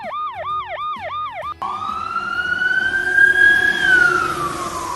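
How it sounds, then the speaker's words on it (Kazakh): Fire truck siren: a fast repeating yelp gives way to a long, loud wail that rises, holds steady and then falls, with no other sounds in front of it. "өрт сөндіру көлігі"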